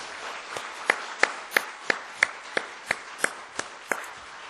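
Church congregation clapping in a sanctuary during a sermon, sparse and faint at first with about a dozen distinct sharp claps spaced across the stretch over a soft patter of hands.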